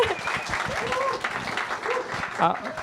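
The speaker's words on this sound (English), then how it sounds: "please give him big welcoming applause for Eric once again" An audience applauds to welcome Eric Schmidt at a startup talk, steady clapping at moderate volume for a few seconds, with a voice speaking over it.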